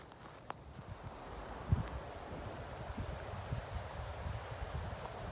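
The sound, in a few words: wind blowing on the microphone outdoors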